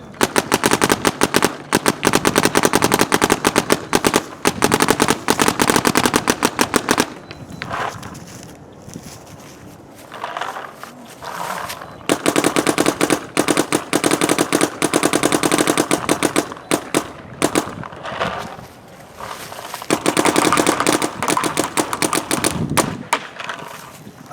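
An Etha 2 electronic paintball gun with a Pal loader fires rapidly outdoors on a cold, sunny day, several loud bursts of fast, crackling shots separated by short pauses.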